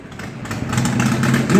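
Vintage tractor at an antique power show runs with a steady mid-pitched engine chug that swells slightly louder toward the end.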